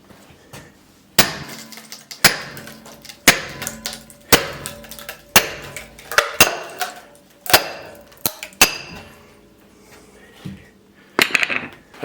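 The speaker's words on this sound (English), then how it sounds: "Listen to that thing cracking." Hammer blows ring on a steel wedge driven into firewood, about a dozen sharp metallic strikes at a steady pace. Faint cracking and creaking of the splitting log fills the gaps between hits.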